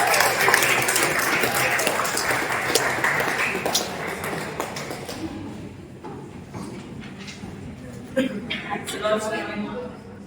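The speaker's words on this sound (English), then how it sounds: "Please give her a big round of applause." Applause greets Dr. Varalakshmi as she comes to the stage at a summer school talk, strong at first and then fading, with a voice speaking over the closing seconds.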